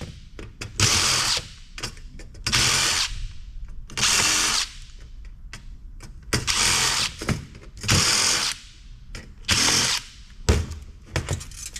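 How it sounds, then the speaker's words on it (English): Bursts of a power drill or driver whirring in repeated short runs, backing screws out of a scrap touch screen system's steel housing, about six close, loud spurts separated by brief pauses. "those screws that I didn't take off before need to come off now"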